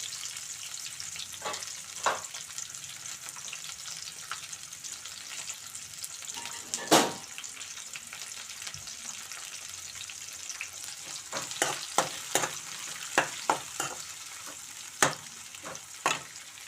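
Thinly sliced onion and green chillies fry in a pan in a rural home kitchen, with a steady close sizzle and occasional louder stirring scrapes and clinks throughout.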